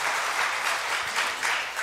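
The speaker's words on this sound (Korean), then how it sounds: "우리 박수 한번 하시죠." Church congregation applauding during an evening worship service, a dense, steady wash of many hands clapping that holds at an even level throughout with no voices on top.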